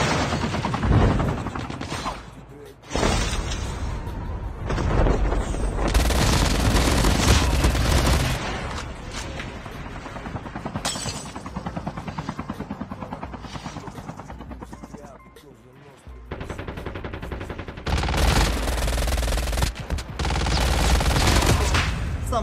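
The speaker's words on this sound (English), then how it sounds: "some are shooting me with snipers" Sniper rifle fire and other gunfire in Call of Duty Mobile's Blackout battle-royale mode, heard as heavy repeated bursts amid dense, loud, continuous combat noise with a droning engine-like roar, broken by a few brief quieter gaps.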